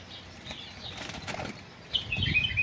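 A flock of Iraqi royal pigeons beats their wings in a loose, fluttering flurry that swells near the end, close and fairly loud with no voices.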